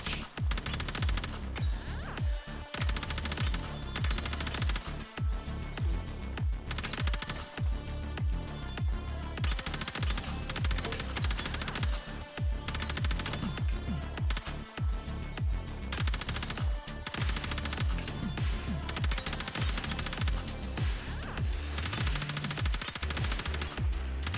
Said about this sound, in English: Oh, and then suddenly I have sounds on the gun, that's pretty strange